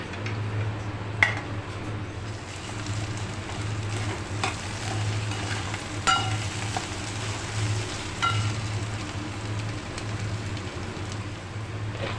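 Steady sizzling of onion frying for a tempering in a pan, with occasional sharp clinks of a utensil against the metal, no voices.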